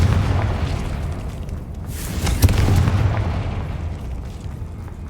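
Confringo fire spell blast in the video game Hogwarts Legacy: a single deep boom lands mid-clip over a continuous low, rumbling game ambience, with no talking.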